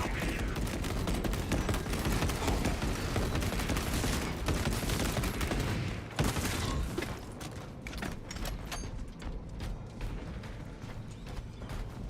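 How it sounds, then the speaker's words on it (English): Dense, continuous heavy bolter fire from the Warhammer 40k video game Space Marine 2 rattles loudly for several seconds, then gives way to sparser mechanical clatter and scattered shots. "I really don't like how the heavy bolter sounds"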